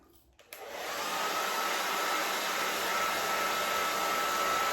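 A hair dryer switches on and blows with a steady, loud whooshing hum, drying transparent paint on a wooden round before the next coat.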